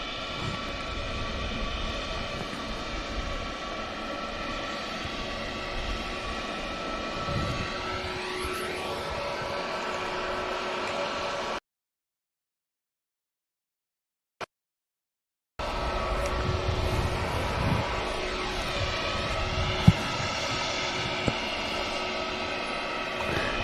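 An airliner touches down on the runway at Manchester Airport, a sustained distant jet roar with whining tones that shift in pitch, broken by a few seconds of silence before the engine noise returns and carries on.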